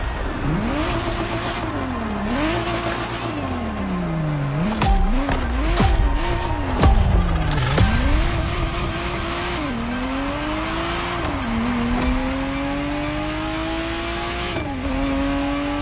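A Ferrari Testarossa engine in The Crew Motorfest racing game revs repeatedly, climbing through gears with rising whines and dropping at shifts, loud and close, with brief tire squeal.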